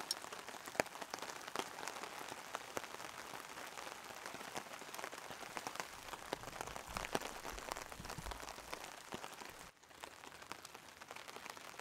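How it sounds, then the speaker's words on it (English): Rain falls steadily at a back-road campsite, with a dense patter of drops striking a nearby surface and scattered sharper taps throughout. "So it's still raining."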